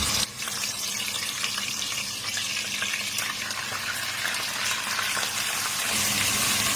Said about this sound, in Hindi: गोश्त को हमें इतना फ्राई करना है कि उसका कलर तब्दील हो जाए